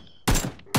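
Two loud bursts of gunfire in the shooter game PUBG, a sharp broadband blast followed by a decaying rumble, then another shot starting at the very end; no talking over them.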